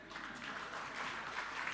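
Audience clapping in a religious discourse hall, a brief, fairly faint and steady patter of many hands without talk.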